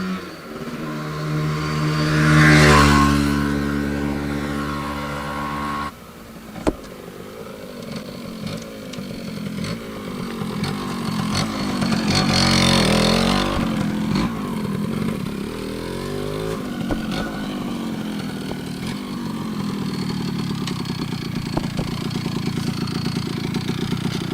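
A 1993 Kawasaki KE100 two-stroke motorcycle engine runs close by, buzzing at a steady rev, then surging in a couple of throttle blips before settling back to a rough, raspy idle.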